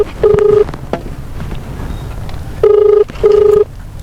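A telephone rings with a short electronic tone, then a double ring pattern follows after a pause, clear and close against faint background noise.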